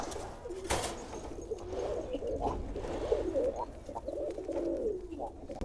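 Fancy pigeons cooing inside a loft, a steady low murmur of coos running throughout with a brief sharper sound near the start, no speech over it.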